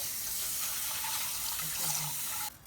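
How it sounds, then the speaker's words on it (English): Rice being rinsed in a bowl for Dungeness crab fried rice: water pours and swishes steadily and fairly loudly, with no talk, then cuts off abruptly near the end. "now it's time to rinse the rice"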